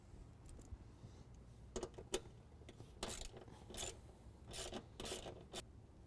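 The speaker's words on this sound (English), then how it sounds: "We need to remove this 8mm bolt so that we can put our battery tray in." Ratchet wrench backing out an 8mm bolt near the battery tray of a 2017 Ford F-250 Powerstroke truck, giving short raspy clicking bursts in irregular spurts, fairly faint and close, with no talking.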